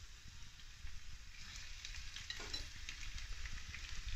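Codfish cooks gently in a pan over a lowered flame, a faint, soft sizzle with light crackles and a low rumble beneath.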